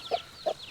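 A hen named Betty with her chicks gives two short, close clucks about a third of a second apart, with faint high peeping between them.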